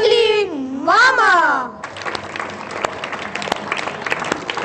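A studio audience on a morning TV show starts clapping after a brief sliding vocal sound, and the scattered applause then continues moderately loud to the end.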